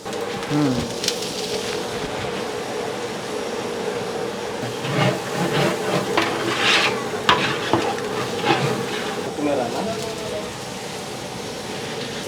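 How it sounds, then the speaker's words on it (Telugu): Ginger and garlic roasting in a pan for Nellore-style pulao, a steady close sizzle with scraping stir strokes and a low background hum, sounding alone without talk. "ఫస్ట్ అల్లం వెల్లుల్లి బాగా రోస్ట్ అవ్వాలి"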